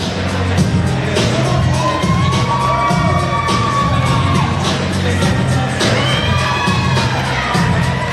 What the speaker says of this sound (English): The crowd loves them.